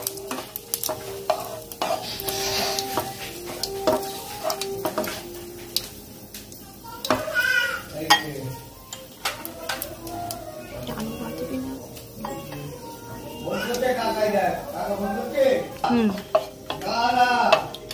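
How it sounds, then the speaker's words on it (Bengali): Bay leaves and whole cumin tempered in hot oil for Bengali chicken keema ghugni, with spatula scrapes against the pan over a soft sizzle and a voice talking at times. "এবার আমি তেলের মধ্যে 2টো তেজপাতা, গোটা জিরে ফোড়ন দিয়ে নিলাম, নাড়িয়ে নেব।"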